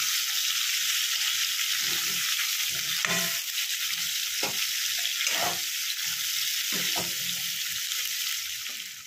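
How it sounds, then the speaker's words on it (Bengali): Pointed gourd (potol) pieces, seeds removed, fry in hot oil with a steady loud sizzle, broken by a few soft scrapes of stirring, no voices. "এই যে পটল আমার ভাজা হচ্ছে"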